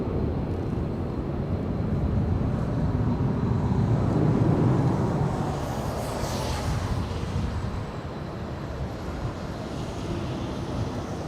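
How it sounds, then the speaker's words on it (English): An Emirates airliner lines up on the runway at LAX, its engines a steady, broad roar heard from a distance that swells slightly midway and then holds level throughout. "Emirates lining up now."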